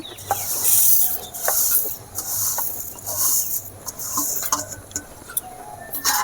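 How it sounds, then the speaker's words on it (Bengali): Gobindobhog rice pours into a bowl in bursts, making a close, gritty hiss and patter of grains that rises and falls in several waves, with small ticks between pours. "খিচুড়ি রান্না করার জন্য আমি এখানে গোবিন্দভোগ চাল নিয়েছি, বাটিতে ঢেলে দিচ্ছি।"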